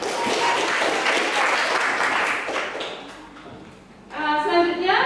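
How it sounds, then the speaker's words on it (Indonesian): Audience applause for a student presenter in a classroom, a dense wash of clapping that fades toward the end, then gives way to a brief different sound and voices. "tepuk tangan buat Iman ya"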